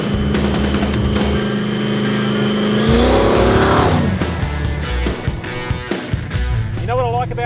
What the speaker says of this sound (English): You've got that blower whine. Unbelievable sound.